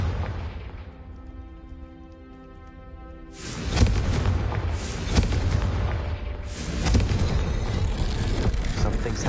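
Loud, heavy blasts from the Confringo fire spell in Hogwarts Legacy erupt in two rolling bursts after a quieter musical stretch, their rumbling booms swelling and sustaining through the rest of the moment.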